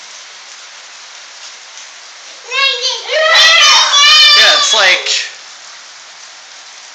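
Hail pelts down during a storm in Phoenix, a dense steady rattle across the whole clip, while a voice speaks briefly in the middle over the clatter.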